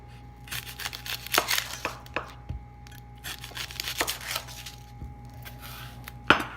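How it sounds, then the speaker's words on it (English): A knife chops an onion into chunks on a cutting board: a series of crisp, uneven cuts and thuds, fairly close, with faint kitchen clatter between strokes. "Now I'm going to go ahead and get my onion, and I'm going to cut this in also in chunks."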